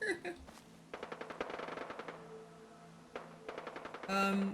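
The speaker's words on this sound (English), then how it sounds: "I hear gunfire" Bursts of automatic machine-gun fire from the video game Fallout 4, several rapid rattling volleys separated by short pauses, with game sounds and musical tones in between.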